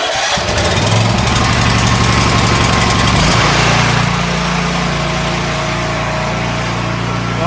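A Champion generator, model 41537, cranked on a cold night: a rough rattling start gives way to a loud, steady engine drone that runs close and alone for several seconds.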